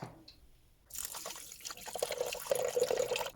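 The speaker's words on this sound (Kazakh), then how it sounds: "Енді суымызды құямыз." Water poured into a Thermomix bowl while making millet porridge, starting after a near-silent second and building into a steady splashing fill that grows louder toward the end.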